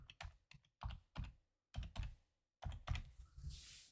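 Typing on a computer keyboard: clusters of close, crisp key clicks in short bursts separated by brief silences, with no voices.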